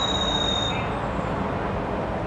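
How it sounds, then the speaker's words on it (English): A train slows in the background. A brief high wheel squeal opens, then a steady, even rail rumble continues, with no voices. "we've got the train here in the background"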